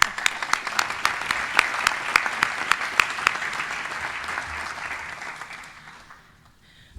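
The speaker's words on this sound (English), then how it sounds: "I give them a round of applause" Audience applause at a school board meeting, steady sustained clapping with sharp individual claps standing out, fading away over the last second into near silence.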